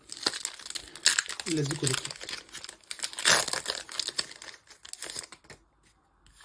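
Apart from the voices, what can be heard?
unwrapping and opening a Christmas gift box's packaging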